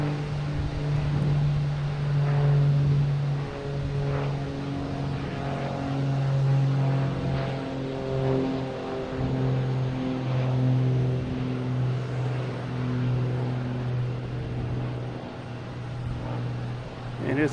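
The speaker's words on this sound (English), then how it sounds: "we got JetBlue coming in from Buffalo, a E190" A JetBlue Embraer E190 jet arrives at Boston Logan from Buffalo, a loud engine drone with strong steady tones that shift slightly as it passes close by, never fading out.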